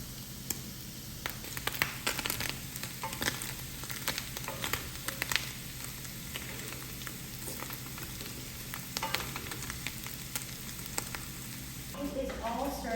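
Shredded beef with garlic fries until crispy for Cuban vaca frita, a soft, continuous sizzle and crackle with occasional stirring scrapes, fairly quiet and close throughout.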